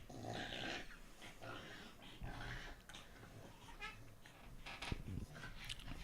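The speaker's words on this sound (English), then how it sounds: "We have pugs. You might hear snorting in the background" Pug dogs snort and wheeze in the background, producing a continuous rough, snuffling breathing texture with occasional louder grunts and huffs across the whole stretch, fairly faint.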